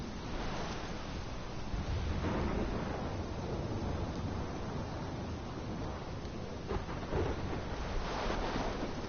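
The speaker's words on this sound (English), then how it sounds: "This is my storm." A storm in the game Life is Strange brings gusting wind and rolling waves, a steady dense roar with swelling gusts, heard alone at moderate level.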